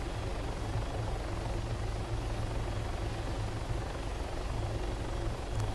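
An MH6 helicopter in the ArmA 3 game drones with a steady low rotor and engine rumble, continuous and moderately loud throughout with no voices.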